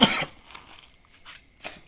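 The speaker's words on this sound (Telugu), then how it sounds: "ఆరోగ్యం మంచి లేదు దోస్తులు, దగ్గు ఇట్లా" A person with a cold gives one sharp, loud cough up close, followed by a few fainter throaty rasps in a quiet room.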